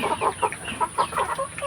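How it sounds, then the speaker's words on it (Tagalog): Young Dandrid-breed hens cluck in a quick series of short, close clucks, several birds overlapping in a farmyard with no voices. "Ayan yung mga manok."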